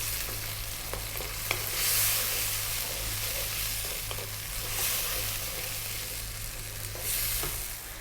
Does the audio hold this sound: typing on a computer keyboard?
no